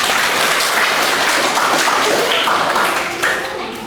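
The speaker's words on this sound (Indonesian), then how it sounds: "Tepuk tangan untuk Nana." A burst of steady clapping from a group in a classroom, fairly loud and continuous, easing slightly toward the end.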